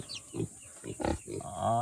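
A native pig gives several short, low grunts in quick succession, close and fairly quiet, with a slightly longer grunting snort at the end.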